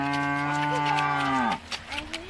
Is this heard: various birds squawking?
no